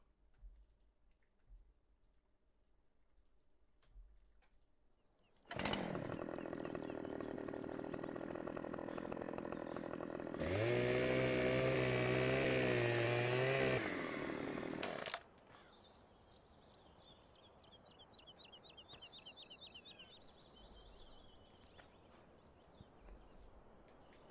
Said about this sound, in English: I need a chainsaw.